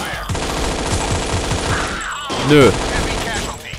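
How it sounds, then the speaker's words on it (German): Automatic gunfire from the video game Infernal rattles in quick, regular bursts, loud and close, with a short spoken word breaking in near the end while the firing continues underneath. "Das ist der Nachteil von Schießen ohne zu zielen."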